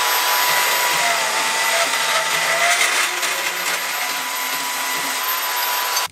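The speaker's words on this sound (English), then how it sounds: "we're going to cut the tubing at 21 inches for your handle" A power tool cuts steel tubing for a handle on a homemade sheet metal shear, a steady loud high grinding whine that holds for several seconds before stopping abruptly.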